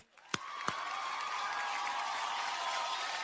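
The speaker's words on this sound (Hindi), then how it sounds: "जोरदार तालियां।" Steady applause from an awards-show audience at Mumbai's Prime Focus Studio, building after a couple of sharp claps into a dense, sustained wash of clapping that fills the room with no voices over it.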